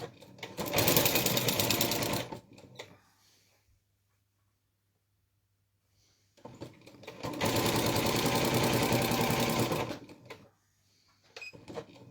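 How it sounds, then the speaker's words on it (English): Sewing machine stitching down the binding on a mini quilt, running in two sustained bursts of steady rapid needle chatter with a quiet pause between them and light handling noise after. "I want to sew the other side down now."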